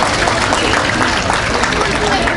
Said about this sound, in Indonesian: tepuk tangan buat Pak Camat